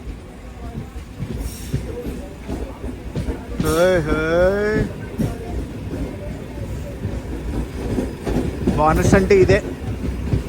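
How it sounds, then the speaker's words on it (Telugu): An Araku–Yelahanka train rolls past alongside, steady rumble and clatter of wheels with a couple of horn-like tonal blasts, while someone talks over it. "అరకు ఎల్లంక బండి."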